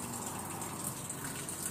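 Water gushes steadily into the drum of a new washing machine as it fills, a continuous close rushing flow with no pauses for the whole short stretch.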